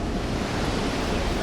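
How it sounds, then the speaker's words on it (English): Rapids at Gypsum Canyon on a river roar as a constant, broad rush of water, loud and even, with no other clear sounds above it. "you can hear the water roaring"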